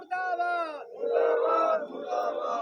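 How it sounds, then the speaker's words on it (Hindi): Protesters at a demonstration against the Jhajjar–Hisar gas pipeline near the Hisar court chant slogans against the BJP government: one voice calls out, then a crowd answers in loud unison, rough and sustained. "बीजेपी सरकार मुर्दाबाद, नारेबाजी की जा रही है बीजेपी की सरकार के खिलाफ"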